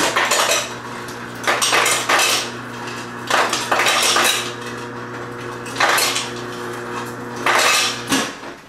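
Ice cubes go into a green smoothie in a kitchen, making a series of sharp, close clattering bursts that come in uneven clusters with short pauses between them. No one speaks.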